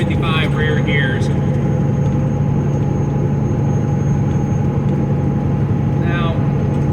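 A Peterbilt 379 truck with a Caterpillar 3406E engine and 18-speed transmission cruises on the I-80 in Iowa, producing a steady, loud cab drone and low rumble, with occasional faint squeaks.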